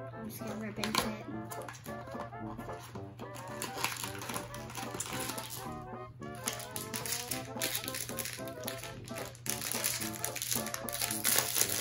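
Toy packaging for a miniature toy is ripped and torn open close by, a continuous run of crinkling plastic and tearing wrapper that grows busier toward the end, with a steady low hum underneath.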